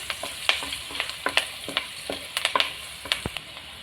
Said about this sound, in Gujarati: હવે એને થોડી વાર તેલમાં મિક્સ કરી લઈએ.